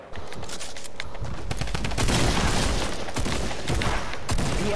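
Rapid bursts of video-game shotgun fire, several blasts in quick succession during a chaotic fight, loud and close with an energetic, crackling barrage throughout.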